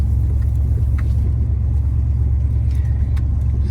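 A 1990 Ford F150 XLT Lariat 4x4 pickup truck drives along a bumpy road, its engine a loud, steady low rumble heard from inside the cab, with faint rattles over the drone.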